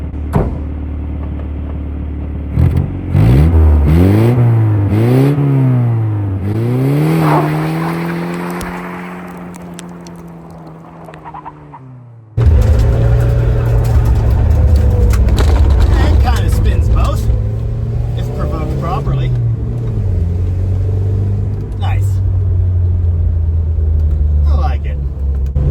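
A 1981 Dodge Challenger revs hard and spins a single tire, its engine note rising and falling in repeated surges before a loud sustained roar as rocks are thrown, steady and close.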